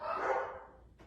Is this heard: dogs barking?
yes